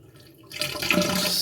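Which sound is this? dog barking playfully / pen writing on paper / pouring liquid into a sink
pouring liquid into a sink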